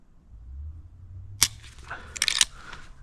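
A short, crisp click from a striker-fired pistol's trigger resetting, one sharp transient followed by a brief cluster of smaller mechanical clicks, fairly close, with no talk over it.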